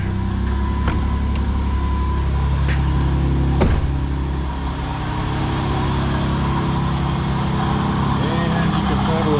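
A 2009 Jeep Grand Cherokee with a 3.7L engine runs steadily with a suspected water pump noise, giving a loud continuous idle hum with a few faint sharp ticks near the start.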